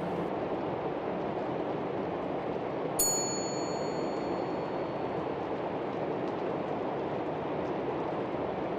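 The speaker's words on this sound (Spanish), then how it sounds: "Siempre me gusta darle fuerte al chirimolo este en la campanilla" A single bright ding from a service bell at a hotel reception desk in the horror game Fobia, St. Dinfna Hotel, rings out once and decays slowly over a low steady ambient hum.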